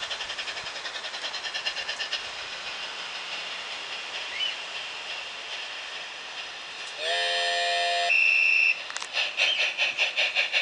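A train climbs a grade with a steady rhythmic chugging. Near the end a loud, sustained whistle blast sounds, followed by another short toot, and the chugging then resumes.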